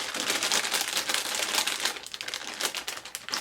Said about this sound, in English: so sorry for the crinkling